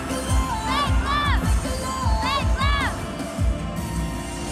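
A large concert crowd chants rhythmically during a song, with bursts of loud shouting voices and cheering recurring in a steady pattern over a continuous roar.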